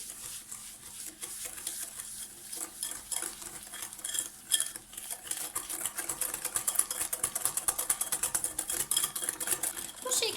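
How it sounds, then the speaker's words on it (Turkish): Egg and sugar stirred by hand in a bowl for crisp oil-based biscuit cookies, with steady rapid clinks and scrapes of a utensil against the bowl running throughout, close and fairly loud, no talking. "elde karıştırarak şekerimi eritebildiğim kadarıyla erittim"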